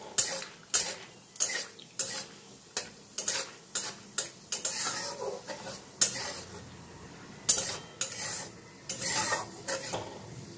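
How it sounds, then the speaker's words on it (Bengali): Peanuts being fried in oil until lightly reddened, with a steady soft sizzle broken by repeated scraping strokes of a spatula against the pan, close and fairly quiet. "বাদামটা একটু ভাজা ভাজা করে হালকা লাল করে ভেজে তুলে নেব।"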